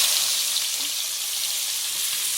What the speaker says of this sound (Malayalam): എണ്ണയിലേക്ക് നമുക്ക് സവോള ഇട്ട് കൊടുക്കാം.